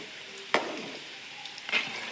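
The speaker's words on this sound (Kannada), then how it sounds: "ದ್ರಾಕ್ಷಿ ಗೋಡಂಬಿನ ಚೆನ್ನಾಗಿ ಹುರಿದು ಎಣ್ಣೆಲೆ ಹುರಿದು ತೆಗೆದಿಟ್ಕೊತೀನಿ." Cashews and raisins frying in oil give a faint, steady sizzle, with two brief knocks of a utensil against the pan partway through.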